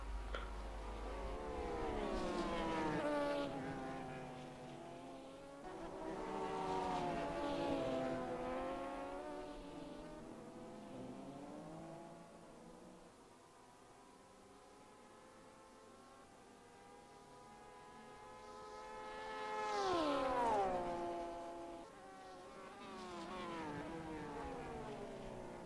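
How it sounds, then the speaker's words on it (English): Porsche race cars scream past in a virtual 24 Hours of Le Mans sim race, engines rising and falling through gear changes in repeated close fly-bys separated by quieter stretches. "one of the SRVN Porsches is trying to catch up to a Porsche."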